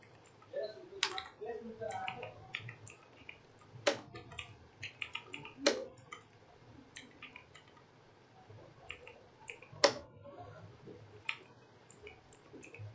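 Keys clatter on a computer keyboard while text is entered in MS Word 2010, in soft irregular bursts with a few sharper clicks, under a man's quiet speech.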